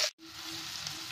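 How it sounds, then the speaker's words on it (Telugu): Roughly chopped large onions fry in hot oil with a steady close hiss, after a brief clatter and a short gap at the start. "పెద్ద ఉల్లిపాయలు మూడు ఇలా చాప్ చేసుకొని వేసుకుంటున్నానండి ఇవి బాగా ఫ్రై కానివ్వాలి"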